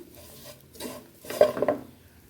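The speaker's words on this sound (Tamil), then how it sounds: "எல்லாத்தையும் நல்லா மிக்ஸ் பண்ணி விடுங்க" A spoon stirs soy meat curry in a pan in two short bursts of scraping and clinking, the second louder and busier, with quiet pauses around them.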